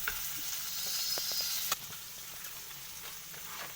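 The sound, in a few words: chilli chicken frying in a pan over medium heat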